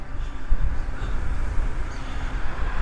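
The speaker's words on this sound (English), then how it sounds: "Sorry about the wind." Gusty wind buffeting the microphone on a cool morning walk through the coastal town of Greystones, Ireland, a low rumbling blustery roar that swells and falls throughout.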